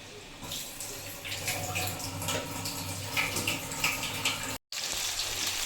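Pieces of chicken frying in butter in a pan give a steady, close, dense sizzle and crackle that runs without break, with no voices.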